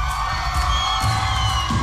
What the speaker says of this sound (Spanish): Un aplauso para el capitán del equipo rojo.